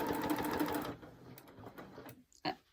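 A sewing machine stitching slowly for free-motion quilting whirs close and steadily for about a second, then stops, leaving a few faint clicks and a soft knock.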